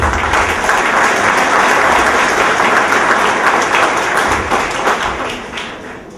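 Audience applause at a university event, steady dense clapping from a large crowd that holds strong throughout before tapering slightly at the end.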